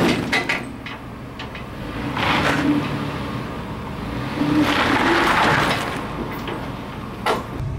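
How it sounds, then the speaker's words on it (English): Truck engine rumbling steadily in a driveway as it pushes a heavy log along, with a couple of swelling surges of effort and scattered knocks and scrapes. "Now maybe I can push it with the truck."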